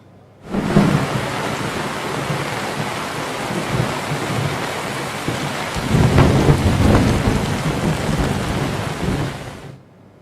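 Heavy winter rain pours steadily with a dense hiss in Gujarat, and a rumble of thunder swells midway through before the downpour continues.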